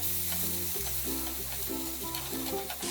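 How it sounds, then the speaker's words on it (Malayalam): Carrot, capsicum and tomato sauté in butter in a pan, giving a soft continuous sizzle with stirring noises. A steady tonal hum or music runs underneath. "ഇതിലേക്ക് ഇനി ക്യാരറ്റും ക്യാപ്സിക്കവും ടൊമാറ്റോയും ഇട്ട് വഴറ്റി കൊടുക്കാം."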